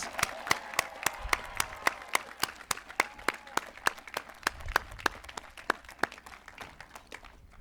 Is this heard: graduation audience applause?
yes